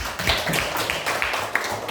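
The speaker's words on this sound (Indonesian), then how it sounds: "tepuk tangan dulu untuk kita semua" A school class claps hands together in a quick, steady burst of applause, fairly close and loud throughout.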